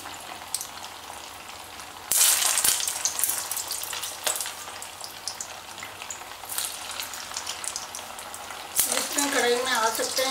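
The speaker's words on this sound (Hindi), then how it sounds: "पहले देखेंगे ऑयल गर्म हो गया है ठीक से, अब एक एक करके सारे बॉल्स डालेंगे।" Falahari balls frying in hot oil in a kadhai, a steady close sizzle that flares loudly as pieces drop in, with occasional stirring clinks and someone speaking briefly near the end.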